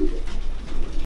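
Pigeons coo softly in an old pigeon loft, a low steady murmur of calls heard close and without any talking.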